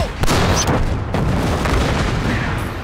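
A tank cannon fires in a war film battle scene against machine-gun turrets, a single loud, sharp blast followed by a long rumbling echo that slowly fades.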